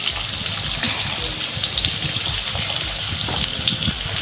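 Potatoes frying in hot oil in a pan for a potato curry, a steady close sizzle running throughout with no talk.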